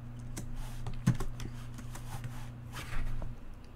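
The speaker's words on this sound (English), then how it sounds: "let's type answer" Keys clatter on a computer keyboard in a quick, uneven run of clicks over a steady low hum, with a couple of firmer keystrokes standing out, close and fairly quiet.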